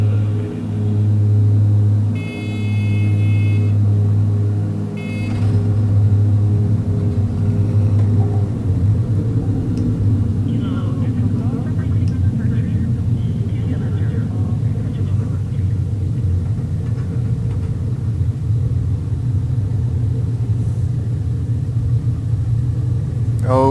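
A Cessna 310 twin-engine plane lands on a runway in X-Plane 11, giving a steady, loud engine drone with a deep rumble that shifts slightly as the landing goes on, alone throughout.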